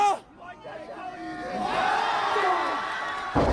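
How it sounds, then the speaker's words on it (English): Indie wrestling crowd in West Virginia cheering and roaring, a loud broad swell of many voices that builds and stays sustained through most of the stretch, with shouts poking through the din. "Listen to that crowd."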